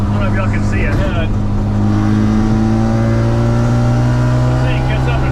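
A rotary-engined baja buggy runs close by with a steady, droning engine note and a slight rise in pitch, while someone talks over it.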